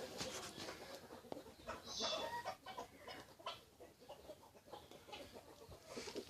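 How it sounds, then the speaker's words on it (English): Free-range chickens cluck softly and continuously in a nesting area with roosting spots, several birds at moderate distance murmuring and calling without speech. "around here is where we have chickens who are nesting."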